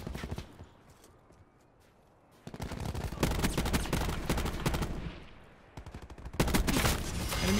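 Rapid automatic gunfire in Call of Duty Black Ops 4, loud close bursts of shots that start after a quiet opening, pause briefly, then resume for a final volley.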